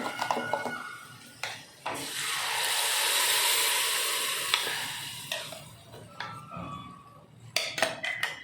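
Chili powder frying in hot oil for an egg masala, a loud, steady sizzle swelling up close, with spoon stirring and pan clatter on either side.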